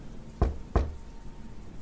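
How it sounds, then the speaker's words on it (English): Two light knocks on a door, evenly spaced, soft and somewhat distant in an otherwise quiet house. "A light knocking sound on the other side of the house."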